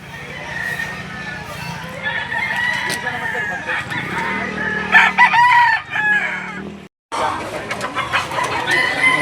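Roosters crow repeatedly at a crowded chicken sale in Lipa City, Batangas, several loud overlapping calls with clucking and background chatter, then a brief cut to silence before the crowing resumes.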